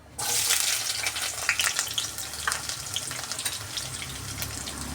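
Chopped onion with mustard seeds and cumin hits hot oil and sizzles steadily, a loud, bright hiss that begins abruptly and keeps going with crackling pops while the poha upma is cooked.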